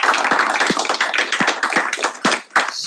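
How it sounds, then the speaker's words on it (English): Applause at a Senate open forum, a room of people clapping with sharp, uneven hand claps for a few seconds, close and lively, with no talking. "Please give him a big round of applause."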